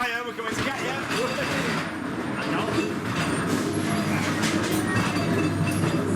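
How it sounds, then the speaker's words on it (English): Blackpool Pleasure Beach ghost train rattling steadily along its rails, a continuous dense clatter and rumble with wheel noise close by, filling the whole stretch. "The world's first proper ghost train."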